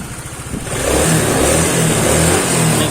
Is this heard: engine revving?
yes